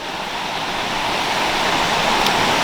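The River Black rushes loudly into a tributary, a steady, dense roar of turbulent flowing water heard close and alone.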